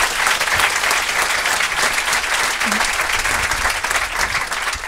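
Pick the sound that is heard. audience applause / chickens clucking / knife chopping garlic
audience applause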